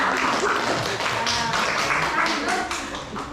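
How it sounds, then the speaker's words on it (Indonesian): Classroom applause from a group of students, a steady dense patter of many clapping hands held at an even level for several seconds, with some voices mixed in. "tepuk tangan"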